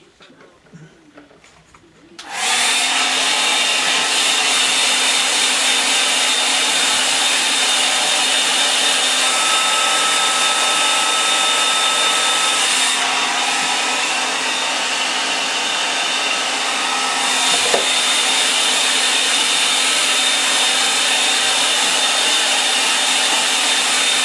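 A hair dryer blows steadily to dry a landscape painting, switching on with a loud whoosh after a quiet start and then holding a constant, close, high whirring roar for the rest of the time.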